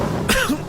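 A single short, throaty cough in a cough medicine advert, close and fairly loud, with a brief harsh burst followed by a fading rasp.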